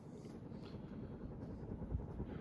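A 52-inch ceiling fan with a 15-degree blade pitch runs on high at about 155 RPM, making a steady, low, rushing whoosh of moving air that holds constant throughout.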